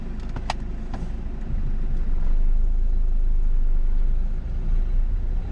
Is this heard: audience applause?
no